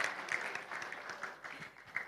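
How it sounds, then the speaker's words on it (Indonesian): Audience at a crude palm oil exchange launch event clapping, a faint, fairly steady spatter of many hands heard from a distance, with no voices. "Kita berikan tepuk tangan terhadap Bapak dan Ibu yang sudah memberikan penjelasan kepada kita."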